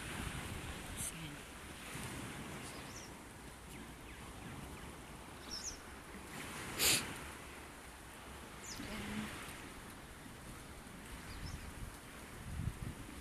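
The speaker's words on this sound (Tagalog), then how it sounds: "pero mahangin, mahangin" Wind blowing outdoors in the early morning, a steady broadband rush with gusty buffeting on the microphone and a few brief louder bursts.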